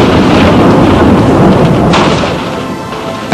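A loud, close roll of thunder rumbles heavily, then gradually eases off into a softer, fading rumble.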